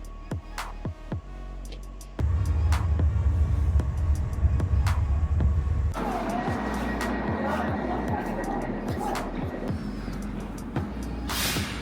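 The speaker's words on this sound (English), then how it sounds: "Currently sat on a mountain in a train" A mountain train ride up to Murren in Switzerland: a steady, close rumble of carriage and running gear with a few sharp clunks, growing louder and denser partway through, with faint voices at times.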